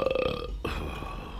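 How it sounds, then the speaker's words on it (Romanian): A loud, drawn-out burp from a person who has just eaten a good meal, rumbling and croaking in a pulsing rhythm before breaking off, followed by a lower, rougher tail of the same belch, close and with no talk. "să poți să râgâi"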